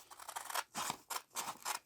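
Scissors snipping through FlexiFuse fusible paper for quilting, several quick close cuts in an uneven rhythm, soft and isolated with no talking.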